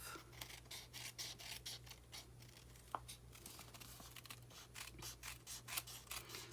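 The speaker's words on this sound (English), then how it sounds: "Take our scissors and just cut it off." Scissors snip through a sheet of 6x6 designer series paper trimmed at an envelope flap fold, giving a quick run of faint, close, crisp cuts and rasps with no talk.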